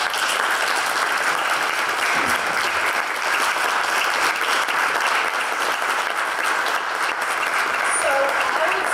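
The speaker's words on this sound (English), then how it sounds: "Give yourselves a round of applause" Dense, steady applause from an audience at a housing community's 30th anniversary celebration, filling the whole span at an even, full level with a continuous wash of many hands and no break.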